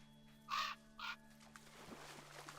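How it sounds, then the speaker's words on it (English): A crow caws twice in quick succession, loud and close, in the video game Spirit of the North 2, followed by quieter ambient rustling and a low steady hum. "the crow will make the noises"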